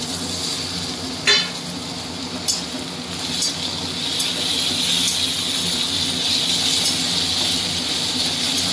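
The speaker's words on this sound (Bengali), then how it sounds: "হ্যাঁ, টমেটোটা আর একটু ভাজা" Chopped tomato frying with spices in a pan makes a continuous close sizzle, punctuated by a few sharp spatula taps and scrapes early on, with no speech.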